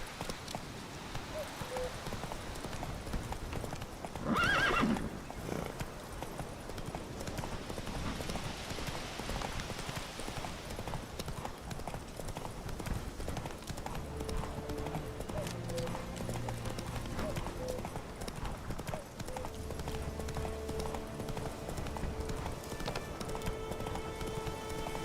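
Horse hooves clip-clop steadily at a gallop in The Witcher 3 video game, a continuous rhythmic trotting under light rain ambience, with a brief whinny near the start and game music tones rising later.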